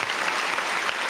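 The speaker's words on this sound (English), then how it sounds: "Can we get a round of applause?" A burst of loud, dense applause from a group, continuous and full throughout the short stretch with no gaps.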